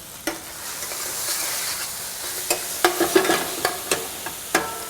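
Grilled shrimp and chard cook in a pan with a soft, continuous frying hiss, broken by a series of scraping and clinking stirring sounds that grow more frequent toward the end.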